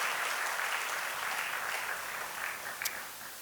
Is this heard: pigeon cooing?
no